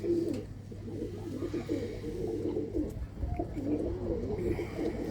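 Flying pigeons in a coop coo in continuous low, throbbing bursts, close and steady across the whole stretch, with faint chirps mixed in.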